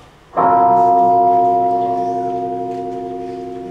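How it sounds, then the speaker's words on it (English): A single bell strike rings out in a high school stage production of The Wizard of Oz, loud and near, its clear metallic tone sustaining and slowly fading. "Who rang that bell?"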